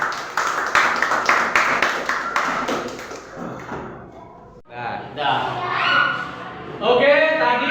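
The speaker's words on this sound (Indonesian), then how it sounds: "Kita beri tepuk tangan untuk kelompok 1." Classroom applause for a student group, with a burst of close, uneven clapping from students that fades out, followed by people talking and moving about the room.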